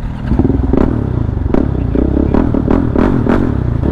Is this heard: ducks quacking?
no